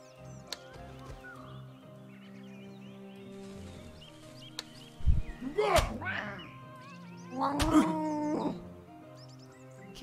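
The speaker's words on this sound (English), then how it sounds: "Kitty." Two drawn-out cat meows sound in the Switch video game Exorder, the second longer and louder, over quiet sustained game music with a few soft clicks.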